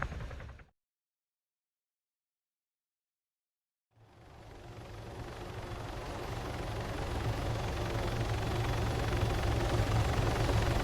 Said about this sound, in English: Raider call signs, extraction helo on standby